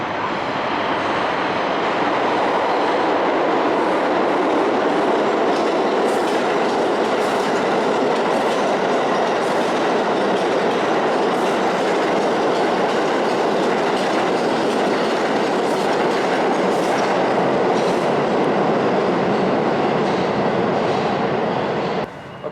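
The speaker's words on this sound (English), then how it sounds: "Sounds like a 2 train." A New York City subway 2 express train roars through a station on the center track, a loud, sustained rumble with rhythmic wheel clatter lasting about twenty seconds before cutting off abruptly.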